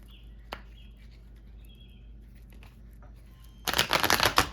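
A deck of Mermaid Tarot cards gets shuffled, mostly quiet with faint taps and a few birds chirping, then a loud dense riffling burst in the final second.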